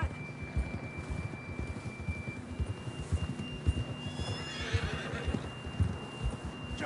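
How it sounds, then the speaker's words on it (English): A horse in the video game Red Dead Redemption 2 whinnies once in the latter half, over a steady rumble of hoofbeats and ambient game music. "John was riding that horse when we left Blackwater."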